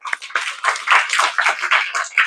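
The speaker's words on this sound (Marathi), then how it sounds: "जोरात टाळ्या." Loud, dense clapping from a crowd at an Indian school guidance talk on mobiles versus books, bursting in irregular close waves for a couple of seconds.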